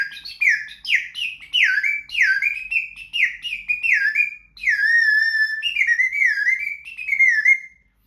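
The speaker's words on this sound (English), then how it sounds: "And finally, the bamboo kubu bird whistle." Loud, close chirping from a bamboo kubu bird whistle: a series of swooping, trilled whistle notes in quick succession, including one long sustained warble near the middle, with no voices.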